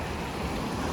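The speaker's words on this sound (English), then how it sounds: "There's waves" Ocean waves wash steadily onto the shore of Hawaii's Big Island, a continuous rushing surf with wind noise that stays broad and fairly loud with no pauses.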